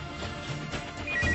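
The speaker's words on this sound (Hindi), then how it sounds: "घर के नंबर पर फोन किया, लेकिन घंटी बजती रही, किसी ने फोन उठाया नहीं।" Landline telephone ringing unanswered in a family home, a short electronic ring burst rising near the end of a brief, noisy stretch.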